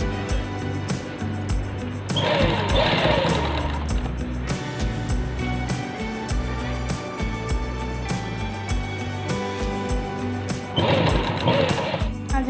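A sewing machine runs in steady bursts while stitching drawstring piping onto a garment neckline, a close, loud whirring hum that surges and pauses several times, with no talking.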